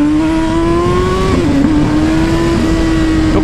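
A Honda CB1000 motorcycle fitted with a turbo revs hard and loud close by. The engine holds a high steady pitch, with short dips as the throttle is blipped.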